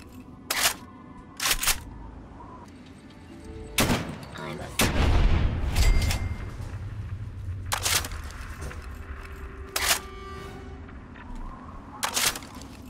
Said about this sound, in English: All right, I hear gunfire.